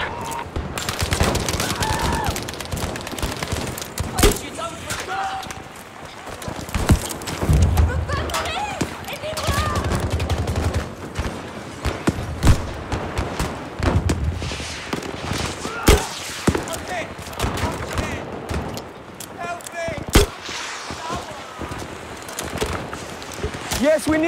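Gunfire in the Battlefield 5 Underground map, Breakthrough mode: rapid bursts and single shots crack throughout, with heavy thumps and distant blasts, layered under radio chatter and voices.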